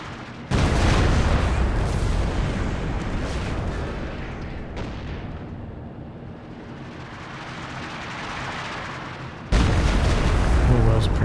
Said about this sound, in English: Go for another barrage down here.